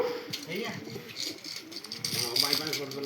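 Pigeons coo softly nearby while people talk in the background, with occasional rattling sounds.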